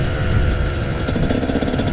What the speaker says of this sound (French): Rouler tranquille, bien laisser chauffer la moto hein